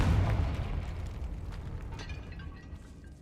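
A fire-blasting Confringo spell explodes in a Hogwarts Legacy catacomb, a deep booming burst that opens loud and rolls off into a fading rumble over about three seconds, with no voices.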